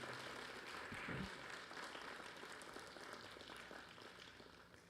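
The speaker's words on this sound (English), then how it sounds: "Another big round of applause for Ranga Ramanujacharya Swami." An audience at a religious discourse gives a round of applause for the speaker, a soft, distant, continuous patter of many hands that slowly tapers off.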